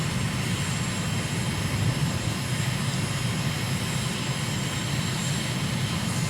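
Aircraft engine droning steadily in Microsoft Flight Simulator during a low flight over Abu Dhabi, a loud continuous hum with no pauses.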